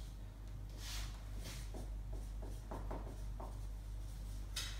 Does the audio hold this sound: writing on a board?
yes